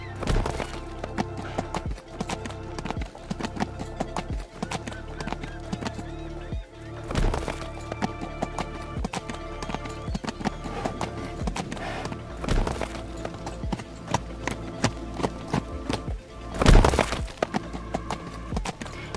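The horse Lucky's hooves clop in a steady rhythmic gait while being ridden, close and clear against a faint wash of background music.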